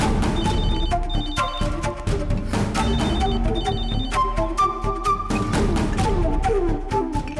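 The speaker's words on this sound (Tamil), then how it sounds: "வேதாஜி கால் பண்றாங்க" A telephone rings in repeated bright bursts during a Tamil TV serial scene, clear and fairly loud over a dense background of music and room sound, with no talking.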